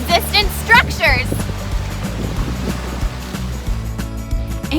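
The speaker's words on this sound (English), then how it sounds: "it is pretty windy out there" Strong outdoor wind buffets the microphone with a loud, uneven low roar and gusty surges, while a person speaks over it at the start.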